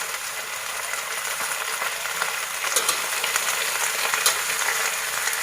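Cabbage frying in hot oil for a fish-sauce fried cabbage dish gives a loud, dense, continuous hiss and crackle close by, steady throughout without voices.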